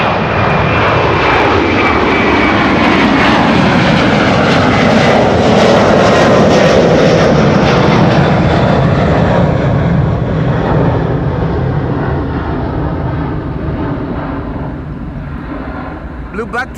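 A jet airliner bound for Nairobi takes off from Schiphol runway 24, a loud, sustained engine roar that swells and then slowly fades as the aircraft climbs away.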